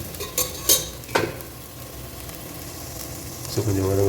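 Ginger and garlic paste frying in a pan for Ambur mutton biryani, with a few sharp clanks of a spatula stirring against the pan and a soft sizzle that swells near the end.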